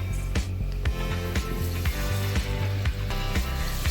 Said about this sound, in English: Let's deep fry them.